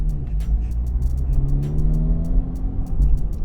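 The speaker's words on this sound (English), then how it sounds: "You can hear the pops of the exhaust." A 2025 Acura Integra Type S coasting downhill in neutral off a roundabout, its exhaust crackling with a rapid string of sharp pops over a low engine rumble heard from inside the car.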